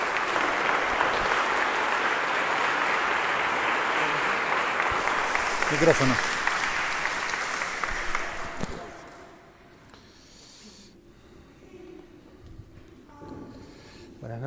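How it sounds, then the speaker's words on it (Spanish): Audience at an evening talk about Blessed Jacinto Vera gives the speaker a warm round of applause, dense clapping lasting about eight seconds before fading into room murmur and a brief spoken word. "les propongo que le demos un aplauso"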